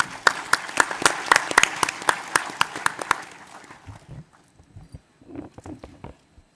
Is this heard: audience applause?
yes